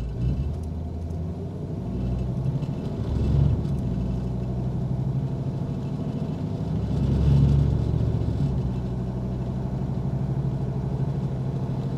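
A 1972 Chevy Camaro's engine on the gas while driving in Las Vegas, a low steady rumble that swells twice as the throttle opens, heard from inside the car without talk.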